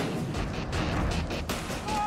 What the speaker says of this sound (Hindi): पुतिन की फौज पर अमेरिका की तोप धुआंधार बमबारी कर रही है।